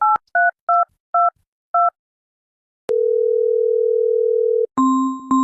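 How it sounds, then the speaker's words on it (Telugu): A telephone keypad beeps out six quick dialing tones. A long steady tone follows, then a brief two-tone telephone signal. The sounds are loud, clean and close, with no voices. "అందుకే ఫోన్ చేస్తాము"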